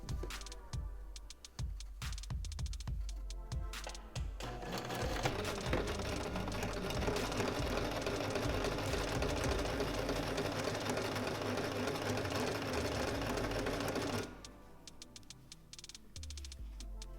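A sewing machine stitches a bias tape seam, its motor running in a steady, continuous whir for about ten seconds, bracketed by shorter bursts and clicks of starting and stopping.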